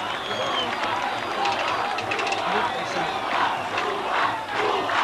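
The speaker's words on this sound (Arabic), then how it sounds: "الجمهور اللي بيقول روقه" A packed football stadium crowd in Egypt chants and roars after a Zamalek goal, a dense continuous wall of massed voices with rhythmic swells, loud and close throughout.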